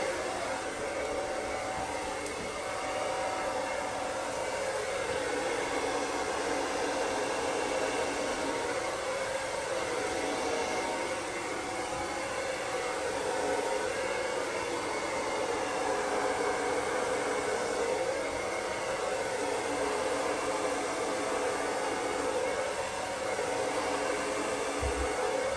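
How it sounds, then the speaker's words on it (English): A hair dryer blows air steadily over a wet acrylic Dutch pour on a split canvas, giving a constant, even whoosh of moderate loudness that runs unbroken throughout with no talking. "now I'm gonna lightly blow the white over the colors"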